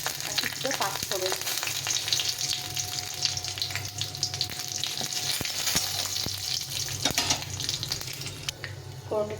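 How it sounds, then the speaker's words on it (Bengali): Dry chilli, a bay leaf and five-spice seeds crackle in hot oil as a tempering for lentils, a steady close sizzle with occasional stirring clatter and no voices. "ফোড়নটা একটু ভাজা ভাজা হয়ে গেছে"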